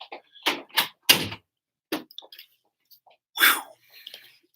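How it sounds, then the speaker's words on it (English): A door swings shut indoors with several sharp knocks and bumps spread over a few seconds, fairly close and otherwise quiet. "Don't start when you hear the door close."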